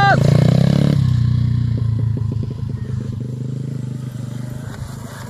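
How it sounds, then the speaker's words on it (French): A motocross motorcycle revs as its rider opens the throttle, a loud close engine roar that rises then settles into a steady buzzing drone with some clatter. "Elle commence à envoyer du gaz."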